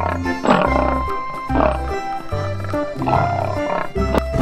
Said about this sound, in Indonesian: Ini hewan harimau.